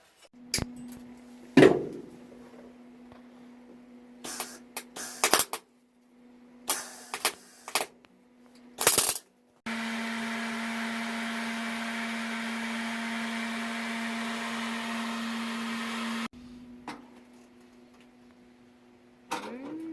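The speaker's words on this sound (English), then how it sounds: "Ready to try welding it in?" A part being welded into a Baja Bug: a few clunks and knocks, then a steady, loud electric buzzing that runs unbroken for about seven seconds before cutting off, followed by quieter shop noise.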